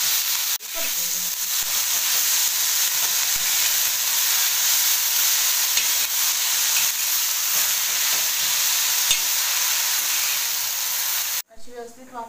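Wild greens sautéing in a pan with salt, a dense continuous hiss and sizzle held steady and fairly loud up close, cut off by a brief clatter at the end.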